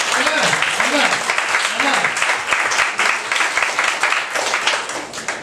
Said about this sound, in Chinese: 拍手把荣耀归给神